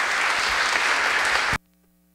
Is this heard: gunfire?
no